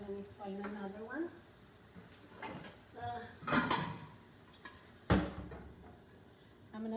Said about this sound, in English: I'm gonna let it simmer for a little bit so the onions can get translucent